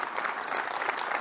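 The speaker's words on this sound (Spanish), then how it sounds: "quiero proponer un gran aplauso para todo este crecimiento" A conference audience at a security event bursts into dense, sustained applause, many hands clapping together close and steady throughout.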